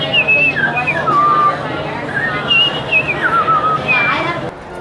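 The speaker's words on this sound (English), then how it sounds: "What, the whistle?" A person whistles a quick, wavering melody of rising and falling notes, with faint crowd chatter in the background.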